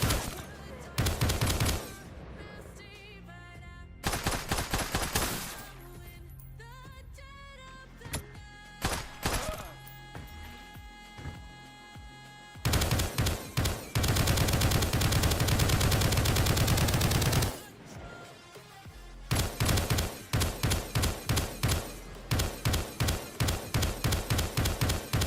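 Assault rifle fire from a game in development, heard as repeated bursts of rapid automatic shots separated by short pauses, with one long sustained stretch of fire in the middle. The bursts are loud and close.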